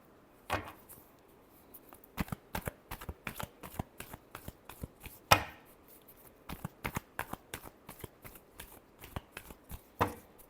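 Tarot cards being shuffled in a run of quick, crisp riffles and soft slaps, close and fairly quiet, with short pauses between bursts and no talking.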